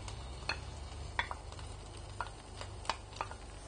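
Lemongrass, onion and galangal sizzle in a hot pan, with a soft steady frying hiss and a few light stirring clicks scattered over it, close and low in level.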